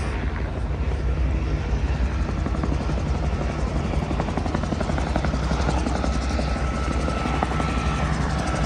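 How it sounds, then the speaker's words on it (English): Helicopter rotors thump and whine loudly and continuously nearby as helicopters land at the Oshkosh 2023 airshow, a steady heavy drone with no voices. "And there you have the helicopters landing."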